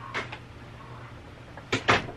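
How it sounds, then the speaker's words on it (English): A door swings shut in a home, heard as a brief soft knock early on, then a louder double thud near the end against a quiet room hum. "Close the door behind you."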